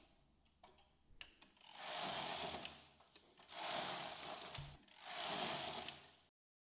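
A knitting machine carriage knits rows of rib stitch, sweeping back and forth in three long rattling, whirring passes, each a couple of seconds long, close and steady with short clicks between them.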